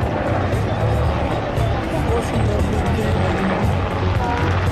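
A Black Hawk helicopter roars at an air show, its dense rotor and engine noise loud and continuous, mixed with crowd murmur and a commentator's voice.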